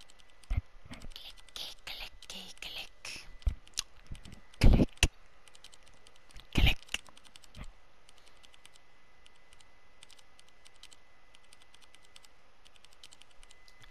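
Clacky ASMR keyboard key sounds from the Rubius emote in a video game, a burst of fast close keystrokes followed by sparse scattered clicks and a couple of louder taps, with no voices.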